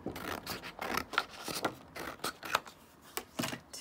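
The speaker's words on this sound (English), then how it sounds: "Right, I'm going to cut this in half." Scissors cut through a sheet of flea-market patterned paper in a row of short, quiet, rasping snips at close range, with no talk.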